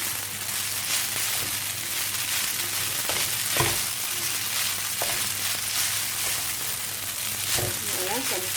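Spaghetti being stirred through a hot frying pan for carbonara, with steady sizzling frying noise throughout and a few sharp utensil scrapes and clinks against the pan.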